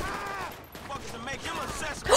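Gunfire in the video game GTA V rattles as a rapid fusillade of shots under a player's voice, with a sharper burst at the end.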